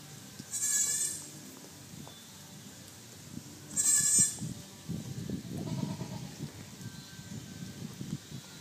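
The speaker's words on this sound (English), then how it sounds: "Here comes another goat." Little goats being fed by a child give two loud, clear bleats a few seconds apart, followed by rustling and shuffling of the animals moving close by.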